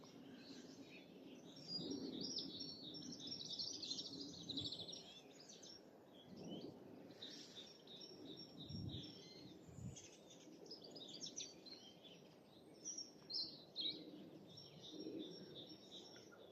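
High, thin twittering calls from a flock of long-tailed tits in an oak tree, scattered and continuous, heard at a moderate distance with a soft background rumble.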